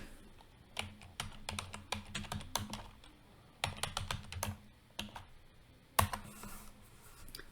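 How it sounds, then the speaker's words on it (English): Typing on a computer keyboard, with keystrokes arriving in quick clattering bursts separated by short pauses; the clicks are close and fairly quiet, and no one talks. "And we'll type in sales."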